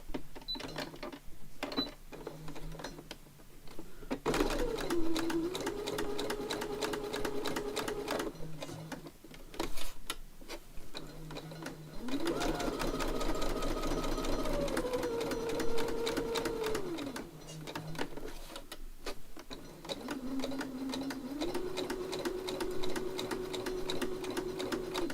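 A sewing machine stitches through old book pages in rapid, steady whirring runs, with short pauses and some clicks and handling sounds between runs. It is close and fairly quiet, and no talking is heard.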